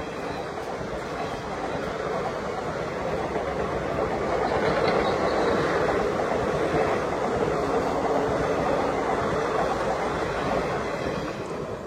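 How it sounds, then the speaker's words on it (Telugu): The Sarkar Express rolls past near Kadiyam railway station with a continuous, loud rumbling roar and rattling carriages that swells midway and stays steady throughout, with no talking. "సర్కార్ ఎక్స్ప్రెస్"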